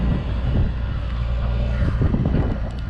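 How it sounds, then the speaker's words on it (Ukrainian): A small tractor drives away across a field, its engine a low, steady rumble at moderate distance mixed with wind buffeting the microphone. "Тракторець поїхав."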